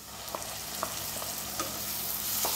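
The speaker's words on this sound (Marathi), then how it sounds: "ही व्यवस्थित परतून घ्यायची आहे तेल सुटेपर्यंत।" Green masala paste and onions sautéing in oil for mutton sukka, giving a steady close sizzle with faint stirring clicks and scrapes at irregular intervals.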